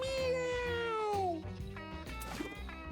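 A kitten in the video game Mewgenics gives a long, clear, falling meow up close, then softer mews and faint game sounds trail after it.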